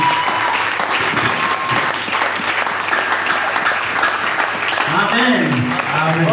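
A church congregation applauding loudly and continuously, with voices calling out amid the clapping toward the end.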